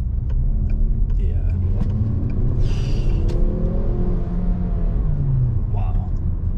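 A 300-horsepower car accelerates hard, its engine note climbing steadily in pitch as a loud, close rumble with a whooshing layer on top.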